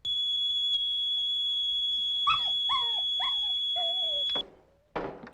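A dog whimpers in a few short, rising cries over a steady high electronic tone, which cuts out near the end before a brief noisy burst.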